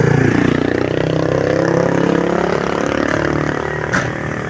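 The engine of a vehicle carrying riders drones loud and steady from up close, with rattling clatter throughout and no clear voices.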